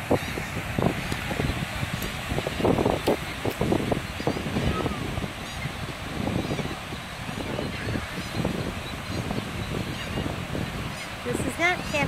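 A flock of geese keeps up a busy, overlapping honking on the Gulf of Mexico coast at sunset, steady wind and surf rumbling beneath, calls rising and falling at moderate distance.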